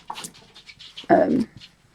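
A dog in a room gives a short, loud vocal burst, a whine or yelp lasting about a third of a second, preceded by quieter panting-like noises.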